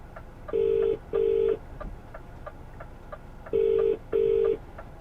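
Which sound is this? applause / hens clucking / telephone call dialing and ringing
telephone call dialing and ringing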